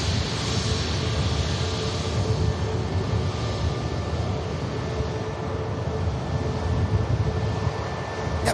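A Brussels Airlines A320neo flying around the airfield at Manchester Airport, a steady broad roar with a faint whine, distant and constant throughout.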